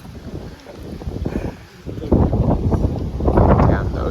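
Strong wind blows by the ocean at Morro Bay, gusting as a loud, rough rumble that buffets the microphone and grows heavier toward the end.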